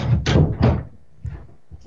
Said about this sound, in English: you can close your door if you want behind you